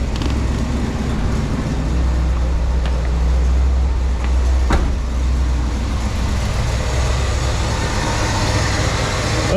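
A 1967 Pontiac Grand Prix convertible's engine idling, a loud steady low rumble heard close up throughout, with a brief click partway through.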